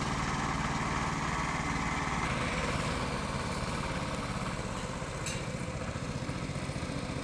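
A power tiller's small engine chugging steadily and loudly at close range while its trailer is tested, with a continuous rapid putter throughout and no voices.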